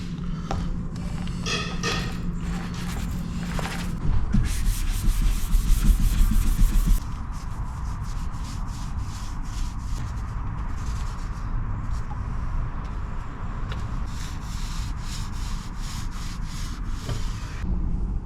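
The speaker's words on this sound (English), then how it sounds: "Sanded this one, sand these ones down" Cabinet doors are sanded down in a garage, with a continuous close, gritty rubbing and scratching and a brief louder, coarser stretch partway through.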